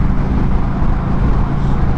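Loud highway traffic on the interstate, a steady rumbling road roar with a car tailgating a truck close by, droning evenly with no pauses.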